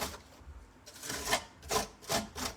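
Texture paste being scraped over a 3D stencil on furniture, a series of soft, close rasping strokes in an uneven rhythm, rising and falling with each pass.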